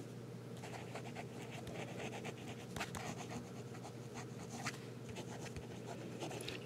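A pen writing on paper, with light scratching strokes that stay faint and close throughout, no speech over them.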